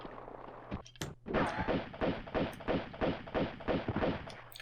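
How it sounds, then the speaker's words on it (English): Lara Croft firing her twin pistols in the video game Tomb Raider 2, a brisk run of roughly eight evenly spaced shots, moderately loud and without speech. "I'm just going to go ahead and bust out my regular pistols"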